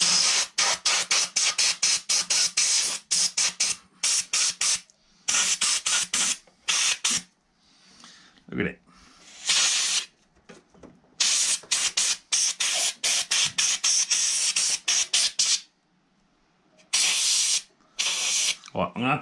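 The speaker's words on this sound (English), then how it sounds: "So a bit of an air compressor, trying to blow some stuff off here." An air compressor nozzle blasts caked debris off a Honda GV100 lawn mower engine in loud, repeated hissing bursts, some rapid and stuttering, others long and sustained, with short quiet gaps between.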